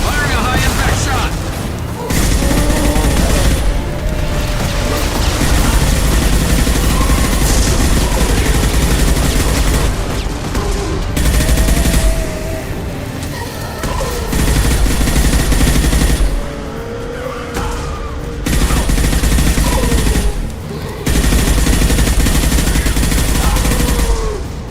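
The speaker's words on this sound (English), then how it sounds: "Firing a high-impact shot!" Bursts of gunfire crackle through a firefight in Mass Effect 2, loud rapid volleys in several clusters separated by brief pauses, with booming impacts and voices calling out between the shots.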